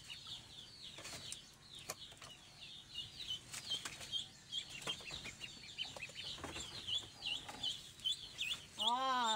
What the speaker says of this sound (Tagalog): Meron akong dalawang itik.